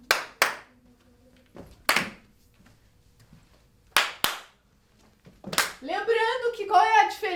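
Sharp, isolated hand claps come singly and in quick pairs with pauses between them during a fourth-grade physical education exercise lesson. A voice starts talking near the end.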